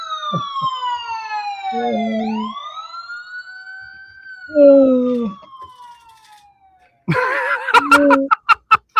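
A siren wails up and down in long sweeping tones, then breaks into several short, sharp blasts near the end.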